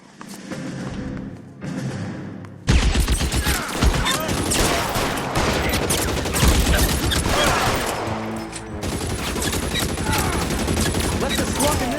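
Dense gunfire in the LA Noire video game, a nearly continuous barrage of loud shots and impacts with game sounds layered over it and a voice briefly heard.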